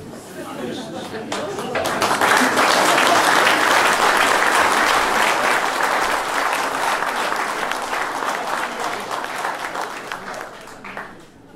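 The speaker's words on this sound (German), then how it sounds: "Applaus." Sustained applause from the audience at a New Year's award ceremony of a community foundation, swelling quickly, holding steady for several seconds, then thinning out toward the end.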